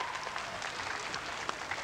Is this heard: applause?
yes